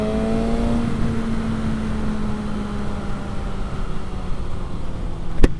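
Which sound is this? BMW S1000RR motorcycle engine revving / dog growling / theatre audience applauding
BMW S1000RR motorcycle engine revving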